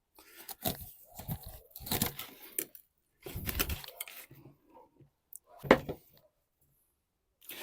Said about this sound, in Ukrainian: Отака порційними шматочками вкидаємо і рубаємо нашого другого судака